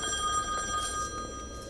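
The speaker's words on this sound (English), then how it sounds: "A phone call?" A telephone rings in The Wolf Among Us video game, a steady ring over a busy background of game music and room tone, with no talking.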